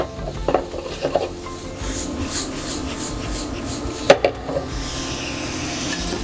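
Onions sauté for a meat stew while the pan is shaken and stirred, giving a low sizzle broken by a few sharp scraping and clattering knocks up close, with no voices.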